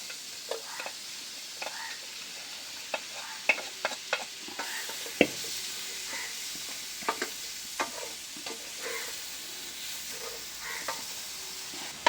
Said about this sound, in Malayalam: ഇനി നമുക്ക് ഇതിലേക്ക് മീനും കൂടെ ഇട്ട് കൊടുക്കാം വറുത്ത് വെച്ചിരിക്കുന്നത്